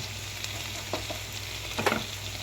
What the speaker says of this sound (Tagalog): luya sibuyas tapos ginisa